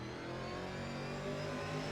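A racing car engine runs at low revs in second gear on a hilly circuit, a steady, dense mid-pitched drone that swells slightly toward the end, loud and continuous with no voices.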